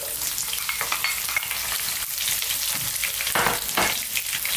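Garlic and onions fry in olive oil for a vegan bean and vegetable stew, giving a loud, continuous crackling sizzle throughout with occasional stirring scrapes and no voices.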